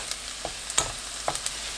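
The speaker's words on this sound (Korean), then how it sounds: "버터가 녹으면 마늘 넣고 중불로 볶아주세요" Garlic sizzles in melted butter in a pan over medium heat, with a faint steady frying hiss and a few light taps and scrapes from stirring.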